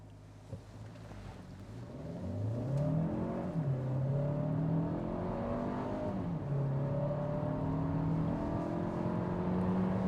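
A 2024 Hyundai Creta Facelift accelerating hard from a standstill toward 100 km/h, heard from inside the cabin as a steady engine drone rising in pitch through several gear changes, with continuous road and wind noise.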